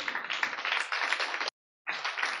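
Church congregation applause during a sermon: a dense, steady wash of many hands clapping, stopping abruptly for a moment, then resuming just as strongly.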